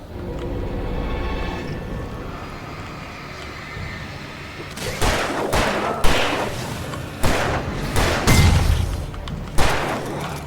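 Gunfire in the game Alan Wake: after a few seconds of low ambient rumble, a string of loud, sharp shots lands at irregular intervals, some heavy and booming, with no one talking over them.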